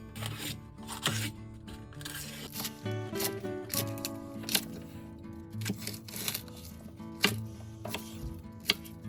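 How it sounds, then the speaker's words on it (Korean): Knife chopping onion into large chunks on a board for spicy braised beef short ribs, a steady run of sharp knocks over soft music. "양파는 큼지막하게 잘라주면 됩니다"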